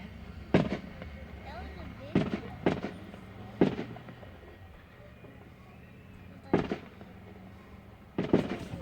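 Fireworks at a fairground display burst in sharp, loud booms spaced a second or more apart, some in quick pairs, while spectators chat and react in the background between explosions.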